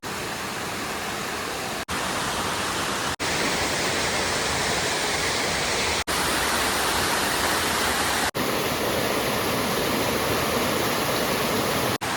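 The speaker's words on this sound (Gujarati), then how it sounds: "બાજુમાં ઘણું બધું વોટરફોલનું પાણી જાય છે" Waterfall water rushing beside a forest trail near a hilltop temple at Pavagadh during the monsoon: a loud, steady, broadband roar that fills the whole clip, with a few abrupt cuts.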